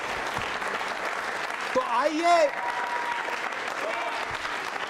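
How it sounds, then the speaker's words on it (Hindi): A crowd at a Jain social group quiz show applauds loudly with steady, continuous clapping while a voice speaks briefly over it. "जोरदार तालियां।"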